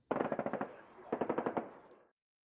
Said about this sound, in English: That's like a rapid gunfire